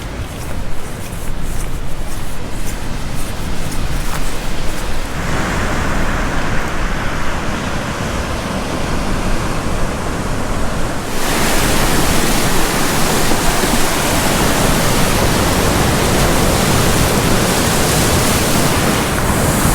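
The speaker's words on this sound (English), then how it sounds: "you can really hear the waves" Loud, steady rushing noise of Lake Superior waves churning in strong wind in Michigan's Eastern Upper Peninsula, a continuous roar that grows even fuller partway through.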